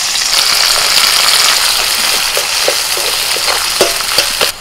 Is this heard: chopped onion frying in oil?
yes